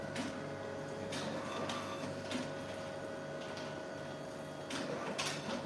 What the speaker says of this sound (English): This is the printer.